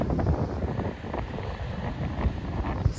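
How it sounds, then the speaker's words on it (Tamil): Strong wind roars steadily across Chennai Marina beach during heavy rain, buffeting the microphone with a continuous rushing noise and no voices. "செம்ம காற்று, நைட்டு செம்ம மழை."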